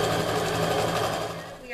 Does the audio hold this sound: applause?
no